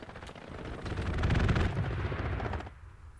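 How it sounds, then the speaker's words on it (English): An aircraft strafing run in the World War II shooter Hell Let Loose, set at Kursk, brings a dense burst of rapid machine-gun fire swelling and fading over about three seconds. "Strafing run gets one in the trench line there."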